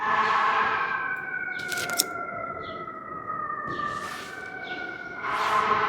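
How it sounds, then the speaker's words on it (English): A siren wails with a steady, wavering tone that fades slightly and swells again, with a few brief noise bursts in between. "wait for the sirens."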